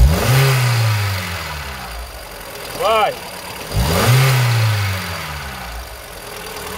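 A contaminated Ford Ranger diesel engine revs up twice in uneven surges with a rough, low drone between them, while someone speaks briefly near the middle.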